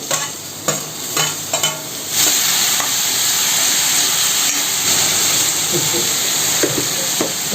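Bottle gourd and tomato pieces hit a hot pan for a vegetable chutney, giving a steady, loud sizzle and hiss after a few clanks of stirring, with no talking.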